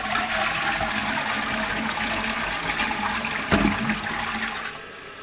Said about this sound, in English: if you don't like surging water, you may not want to see this next bit